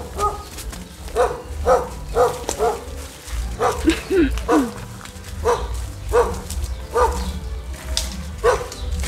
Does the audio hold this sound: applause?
no